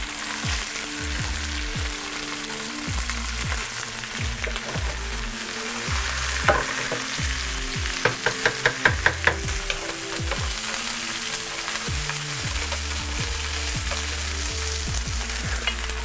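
Asparagus with a pinch of saffron sizzling in a hot pan, a steady close frying crackle with a series of scraping, tapping stirs from a utensil against the pan.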